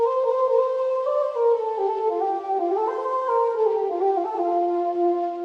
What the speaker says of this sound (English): It's a very popular plugin, and this sound is called Solo Horn.